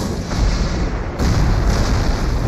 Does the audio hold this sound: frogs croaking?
no